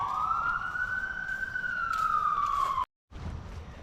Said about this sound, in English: as you hear sirens in the background